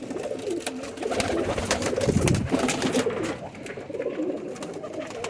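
Several pigeons coo in soft, repeated rounds close by, with rustling and background noise around them.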